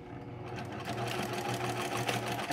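A sewing machine stitches upholstery fabric for a raw-edge applique quilt, running in a fast, continuous whirring rattle from near start to end, close and fairly loud.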